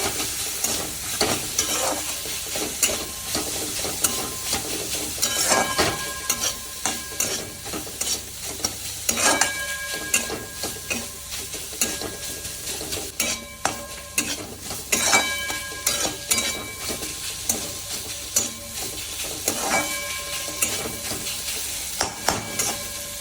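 Softened vegetables sizzle in a pan while being stirred, steady frying hiss broken by repeated scraping and clinking of a spoon against the pan, close and fairly loud, no talking.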